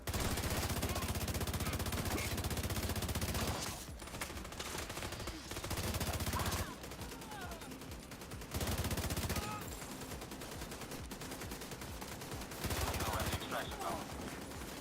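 A deployed turret in The Division 2 fires in long sustained bursts of rapid automatic gunfire, broken by short pauses, with gameplay noise continuing around it.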